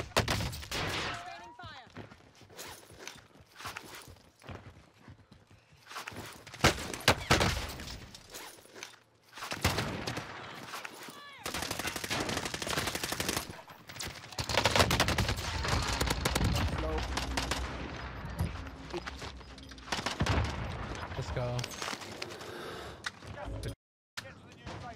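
Gunfire in the Call of Duty Warzone video game, with loud, dense bursts of shots and rapid automatic fire rattling almost continuously through the match, punctuated by sharp single cracks and brief pauses.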